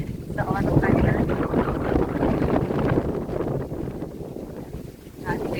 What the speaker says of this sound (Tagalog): kusog kayong hangin